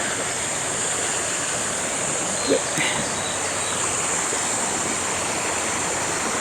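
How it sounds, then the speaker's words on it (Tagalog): The Mariano River in Barangay Conchu, Trece Martires, Cavite, flows with a steady, broad rushing of water that holds even throughout, with faint insect-like chirps on top. "At doon maganda yung agos ng tubig doon."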